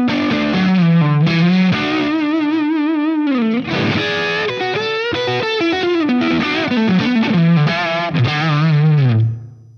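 Yamaha electric guitar played on the neck pickup through effects, with chorus and distortion: a sustained, singing lead melody with bends and slides, loud and continuous, alone with no talking, fading out at the end.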